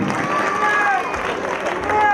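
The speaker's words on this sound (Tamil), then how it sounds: "கொஞ்சம் நல்லா பலத்த ஒரு கைத்தட்டலை உங்களின் சார்பாக கேட்டுக்கொண்டு" An audience at a Karthik Melodies music concert in Chennai applauds for a child, a brief burst of steady clapping beneath an announcer speaking over a microphone.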